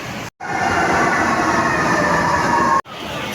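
An MRT train rumbles and hums loudly at Cubao station in Manila during a power outage, a steady roar with a faint rising whine, cut briefly by two short gaps.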